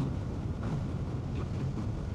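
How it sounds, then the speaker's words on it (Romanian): Strong crosswind buffets along a road in Hungary, a steady broadband roar with rumbling low gusts that holds without pause for the whole stretch, with no voices over it. "E un vânt lateral de nu ne vedem"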